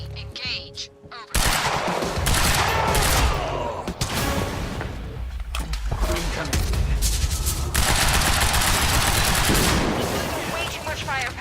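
Heavy gunfire in Quantum Break, loud sustained bursts of automatic weapons and booming shots after a brief quieter start, with voices briefly mixed in.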